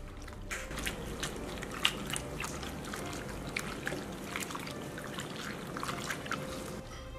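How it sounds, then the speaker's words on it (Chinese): Salted, softened bitter gourd is rinsed by hand in clean water, giving faint close splashing, trickling and squelching that runs continuously with small irregular bursts. "我们用清水给它清洗干净"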